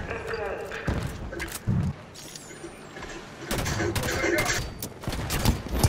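Grenade launches and explosions in Halo 5 Guardians co-op campaign combat, bursts of heavy thuds and blasts mixed with gunfire, with players talking over the action.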